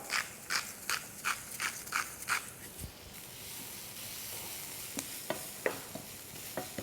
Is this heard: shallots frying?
yes